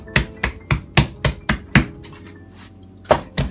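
Pizza dough for a homemade spinach pizza is worked by hand without a rolling pin, giving a steady run of about seven dull, close thumps. A short pause follows, then one more thump.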